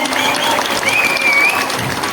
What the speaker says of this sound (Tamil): முறை பாராட்டி கைத்தட்டி தெரிவிச்சிருவோம்